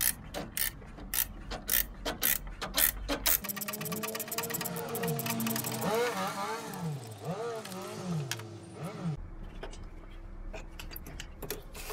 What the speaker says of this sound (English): So get the 12 spanner and then try to remove the bolt here.